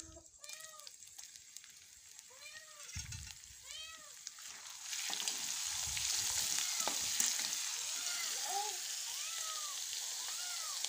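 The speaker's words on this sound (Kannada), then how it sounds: "ಈಗ ಇದಕ್ಕೆ ಬೆಳ್ಳುಳ್ಳಿ ಹಾಕೊಳಕತ್ತಾರ ರೀ ಇವರು" Garlic sizzles in hot oil in a pan, a steady hiss that swells louder midway, while a cat meows repeatedly nearby through most of the stretch.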